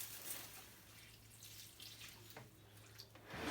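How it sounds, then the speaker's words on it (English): Water is poured from a can into the root-bound soil of a freshly repotted areca palm, a steady soft trickle and splash running close by for a few seconds with no talk. "Just water that right in."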